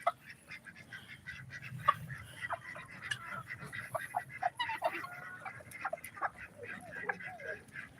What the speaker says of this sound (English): Here's my ducks and my chickens.